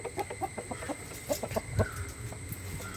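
Several pet chickens cluck nearby in quick, uneven bursts of short calls, fairly close and clear, over a faint background, with no speech.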